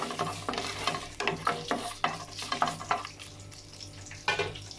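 Lentils roasting in a pan for paruppu thuvaiyal, rhythmic scraping stirs over a light dry sizzle, each stroke a short rasp repeating about twice a second.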